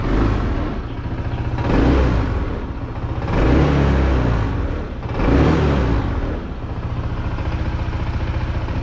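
A remapped motorcycle engine on a center stand idles with a deep, steady rumble and is revved up three times in swelling bursts, each easing back to idle.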